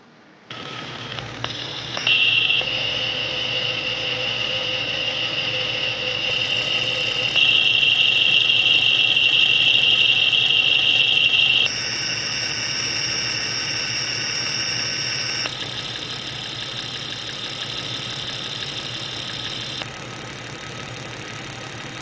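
A car engine running steadily at idle during diagnosis of engine noises, a constant hum overlaid with high whining and ringing tones that shift in pitch and level, no talk.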